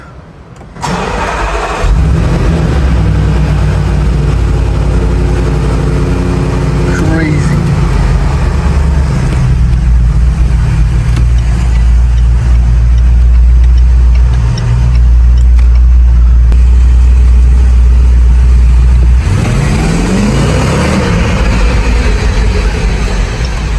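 A car engine cold-starts with an open exhaust, cranking and firing up loudly, settling into a deep, rumbling idle with a raw, throaty exhaust tone that revs briefly near the end.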